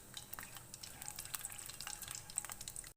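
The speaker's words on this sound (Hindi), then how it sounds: "इन सारी चीज़ों को ऑयल में ऐड कर देंगे। हल्का सा इनको ऑयल में फ्राई करेंगे।" Whole spices, including bay leaves and cumin seeds, lightly frying in oil for Hyderabadi chicken pulao: a faint, steady crackling sizzle with small pops throughout, cutting off abruptly at the end.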